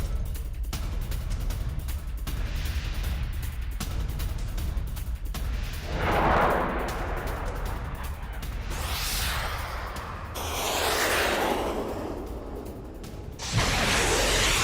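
Strikes on a weapons depot in the Russia-Ukraine war: a dense, continuous roar of blasts and rumbling, broken by several loud sweeping whooshes and a sudden heavy burst near the end.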